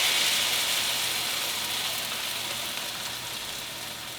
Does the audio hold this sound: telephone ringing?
no